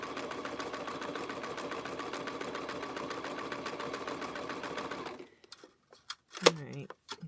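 A sewing machine stitching in a fast, steady mechanical rattle for several seconds, then it stops, followed by a few soft handling clicks and a brief voice.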